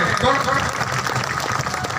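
Crowd at a BJP party workers' rally in a stadium in Keshkal clapping steadily, a dense wash of applause mixed with voices and shouting for the full stretch.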